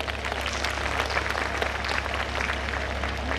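Applause rings out in a school annual function crowd for staff, a dense, continuous clapping from many hands, fairly loud and steady with no talk over it.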